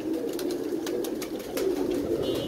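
Pigeons coo softly in low, rolling murmurs nearby, with scattered light clicks and rustles around them and no talking.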